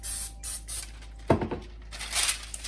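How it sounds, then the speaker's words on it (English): Pam cooking spray sprays onto a parchment-lined baking sheet in short hissing bursts, with a few close clicks and handling noises between them. "to keep that parchment paper right in place, I like to take a little Pam spray."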